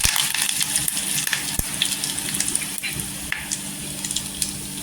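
Curry leaves sizzling in hot oil with cumin in a kadhai while a potato rassa is being made. A steady, close hiss with scattered sharp crackles and pops runs through the whole stretch, with no talking.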